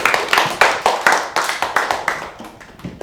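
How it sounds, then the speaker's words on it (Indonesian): A small group claps in a classroom-style session for a participant named Wahyu: a short burst of brisk, close hand claps in an uneven rhythm that thins out toward the end. "Tepuk tangan buat Wahyu"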